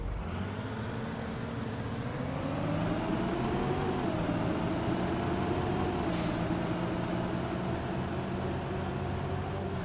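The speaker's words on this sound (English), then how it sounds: "I'll get this thing up to speed so you can hear the fan cut out" A Florida city bus accelerates with its engine cooling fan running, producing a steady loud broadband whoosh over a low engine drone that rises gradually in pitch, with a brief hiss partway through.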